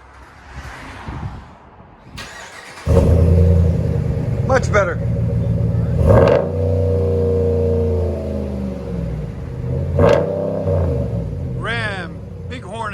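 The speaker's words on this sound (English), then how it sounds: "That's how you do a muffler delete on these." A RAM 1500 with the 5.7L HEMI V8 and a muffler delete fires up and revs in several sharp bursts, a deep loud exhaust rumble rising and falling, with people talking briefly between revs.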